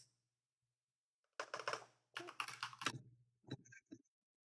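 Bursts of typing on a computer keyboard at a desk setup, quick clustered key clicks in several short runs separated by pauses, close and fairly clear with no talk.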